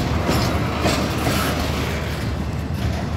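A CSX freight train rolls past on the rails, a steady loud rumble with rhythmic clickety-clack from the railcars lasting throughout, close by and with no talking.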